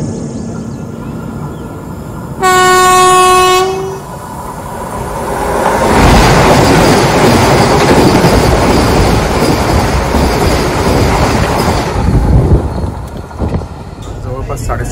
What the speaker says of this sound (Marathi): याच्या पुढे सिंगल ट्रॅक आहे पुढे. त्याचा ट्रेन येते समोरून.